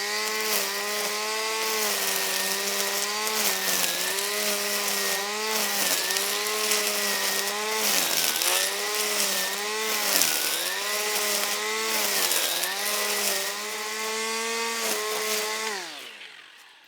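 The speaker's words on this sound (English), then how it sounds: "So I've finished whippersnipping." A Makita cordless string trimmer cutting through heavy grass, its high motor whine rising and dipping in repeated sweeps as the line bites into the growth, close and loud, then spinning down at the end.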